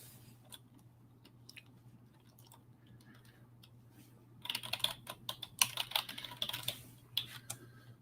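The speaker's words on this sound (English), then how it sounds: "Let me type it in so everybody could see it." Fingers tap on a computer keyboard, first a few scattered keystrokes, then a dense burst of rapid clicking up close, with a low steady hum in the room behind.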